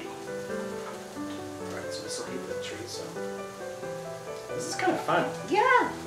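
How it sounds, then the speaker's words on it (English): Food sizzles softly and continuously in a pan while people chat and laugh over it. "We have sizzling"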